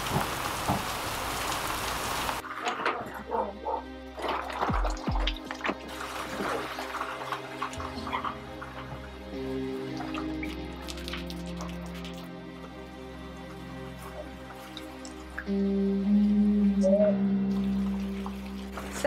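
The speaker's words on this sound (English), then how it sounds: "We're actually really thankful for the rain because we needed to wash the pollen off the van." Rain patters steadily on the roof of a van being converted into a travelling home, a soft continuous drumming with occasional louder drips and a brief electronic beep near the end.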